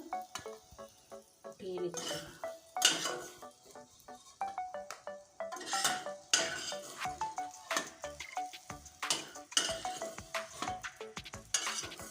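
Fried onions and capsicum scooped out of a pan, with busy clinking and scraping of a metal spoon against the cookware over light sizzling, close and irregular, no talk heard.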